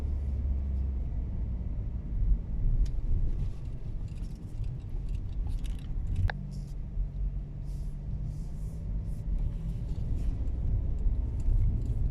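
Toyota Corolla with a CVT gearbox climbing a hill, a low steady engine drone and road rumble heard from inside the cabin, with a faint knock partway through.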